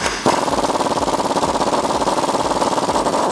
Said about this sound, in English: So I'm gonna take a 21mm socket and remove this bolt.